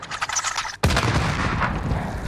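Gunfire in a Call of Duty Warzone match, a sharp close shot cutting in after softer rattling, followed by a sustained loud roar of rapid firing and booming echoes.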